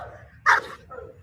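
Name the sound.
fearful dog making high-pitched whining barks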